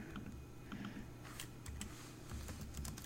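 Keys clatter softly and quickly on a computer keyboard in a quiet room, a faint run of typing that speeds up in the second half.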